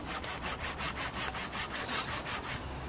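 Hand saw drawn through wood in a steady back-and-forth rhythm, about a dozen close, loud rasping strokes with no talking.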